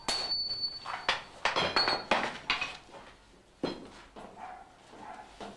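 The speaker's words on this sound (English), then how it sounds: "The block is stretched by hammering it to double its original length before folding." A hammer strikes a steel block to stretch it during samurai sword forging. The close, loud blows fall in an uneven rhythm, about a dozen sharp metallic strikes with ringing clinks and no talk.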